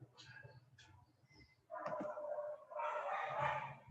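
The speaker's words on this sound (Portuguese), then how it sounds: "aí tem os cachorros latindo lá fora." Dogs bark outdoors at a distance, a few faint yips at first and then louder, muffled bursts of barking, with no speech.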